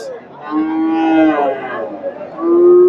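Cattle low loudly at a Dakumara cattle market where Friesian bulls are sold, with several long drawn-out moos close by and a final moo rising near the end. No one speaks.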